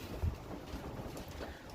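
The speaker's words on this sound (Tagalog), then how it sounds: "kasi nga po napakalakas ng hangin dito." Strong wind buffeting the microphone outdoors at a pigeon race loft, a continuous low rumbling roar with a brief louder gust near the start and no speech.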